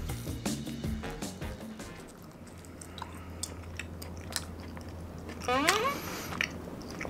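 Kelp jelly with a sticky, very hard texture is chewed close to the mic, giving moist squishing and biting sounds. Speech runs over much of the chewing.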